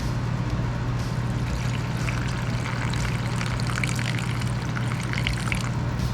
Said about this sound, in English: then you start adding the water